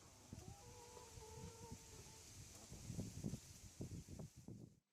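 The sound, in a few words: chickens clucking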